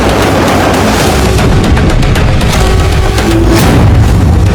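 Loud, continuous booming rumble from Israeli air and missile strikes on Hamas buildings, a dense heavy roar with repeated blasts and crackling debris running through the whole stretch, no voices.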